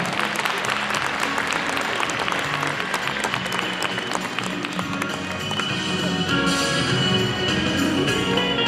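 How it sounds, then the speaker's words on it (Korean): A crowd at a Korean book-launch event claps loudly and continuously for newly introduced guests, dense close applause with crisp individual hand claps throughout. "우리 박수 한번 크게 부탁드리겠습니다"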